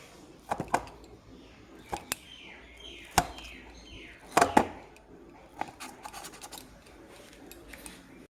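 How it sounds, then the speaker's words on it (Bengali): Boiled egg and fried potato are cut into pieces with scattered sharp knife taps and scrapes against a board or plate, irregular clicks spread over several seconds, close and fairly quiet, with faint background sounds. "তো পিস পিস করে নেব আমি"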